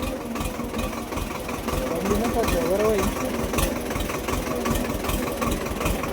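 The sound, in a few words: tractor engine running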